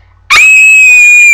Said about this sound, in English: screams as she watches the Teddy of Doom kill Max